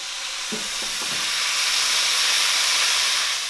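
A potato crust cooks in a pan on the stove, giving off a steady, close hiss and soft sizzle with a few faint stirring scrapes early on and no voices.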